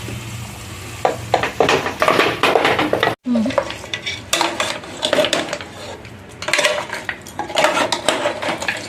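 Mutton head meat tossed into a pan of hot oil with ginger and turmeric sizzles sharply, broken by a brief gap, then comes rhythmic stirring with metal scraping and clinks against the pan, loud and close.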